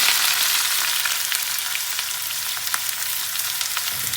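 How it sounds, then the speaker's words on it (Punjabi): Onions sizzle and fry steadily in hot mustard oil, giving a loud, continuous crackle with small pops throughout and no voices. "ਤੇਲ ਹੋ ਗਿਆ ਹੈ ਗਰਮ ਤੇ ਹੁਣ ਆਪਾਂ ਇਹਦੇ ਵਿੱਚ ਪਾ ਦੇਣਾ ਪਿਆਜ਼"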